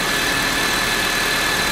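Honda VTEC engine idling just after a cam chain replacement, a steady, even mechanical hum and whir heard close up, continuous and loud with no voices.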